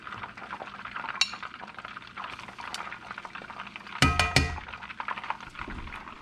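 Morel mushrooms fry and sizzle softly in a big pan of melted butter, with gentle stirring and a burst of utensil clatter against the pan partway through.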